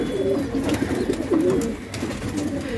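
Pigeons in a loft holding a newborn chick give soft steady cooing calls close by, with a few louder rolling coos over constant background noise.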